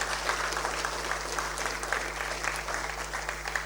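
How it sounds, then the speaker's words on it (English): Applause for visiting representatives of the National University of Timor-Leste at a University of the South Pacific event, a steady patter of many hands clapping, moderately distant over a low hum. "let's give a round of applause for reps from National"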